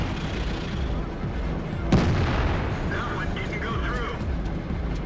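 A single tank cannon shot booms out in the World of Tanks video game, a sharp blast about two seconds in that stands over a steady rumble of engine and battle noise.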